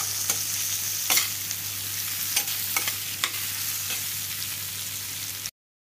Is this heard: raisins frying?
yes